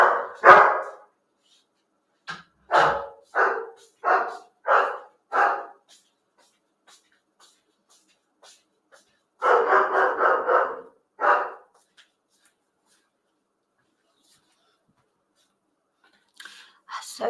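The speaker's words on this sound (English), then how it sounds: "ear-splitting bark" A dog gives loud, sharp barks close by, first a quick run of about six barks, then after a pause a tight cluster of several more, with near-silence between the bursts.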